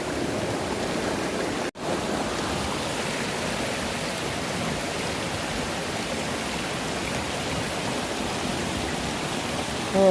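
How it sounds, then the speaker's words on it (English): Fine gravel and black sand swirled in water in a gold pan beside a stream: a continuous, even rushing wash of water, fairly loud and unbroken apart from one brief dropout. "So let me pan this out and I'll check it out real quick"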